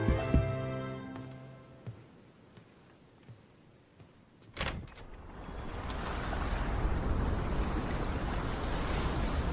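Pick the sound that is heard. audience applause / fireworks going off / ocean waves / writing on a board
ocean waves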